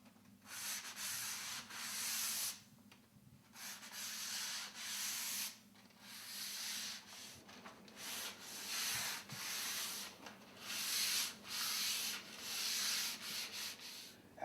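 Hand sanding of primed wood wainscoting and molding, rhythmic rasping strokes in bursts with brief pauses between, close and clear with no talk.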